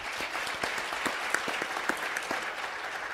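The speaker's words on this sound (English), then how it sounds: "She deserves a round of applause" An audience at an opening panel gives a round of applause, a steady wash of many hands clapping throughout, fairly loud and continuous.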